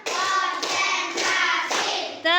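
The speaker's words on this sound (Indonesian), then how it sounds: "Tepuk 5." Schoolchildren perform the tepuk four clapping pattern of an Indonesian classroom clap game: four loud rounds of group clapping in a steady rhythm, the last one short and sharp.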